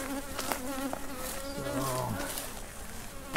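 Honeybees buzz steadily around an open hive being inspected, a continuous insect hum with a few louder passes close by, while people talk quietly in the background.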